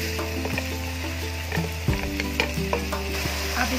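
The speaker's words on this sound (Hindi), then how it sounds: "अब इसको अच्छे से फ्राई करेंगे।" Steady sizzling of onion, ginger-garlic paste, tomato and spices frying in hot oil for black chickpeas, with a utensil scraping and clinking against the pan as it is stirred.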